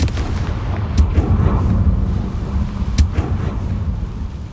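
In Hogwarts Legacy, a Confringo blast spell explodes with deep booming hits, two sharp blasts standing out over a rumbling, noisy game soundscape, with no voices.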